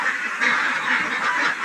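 Pekin ducks on a duck farm quack in a dense, continuous flock chorus, loud and close, with overlapping calls and no talk.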